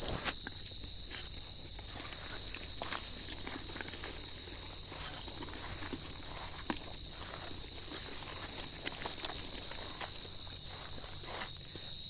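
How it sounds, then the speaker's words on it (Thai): Crickets held in a bottle give a steady, continuous high chirping trill right up close, with faint scattered rustles and taps from handling underneath and no talking. "จิ้งหรีด"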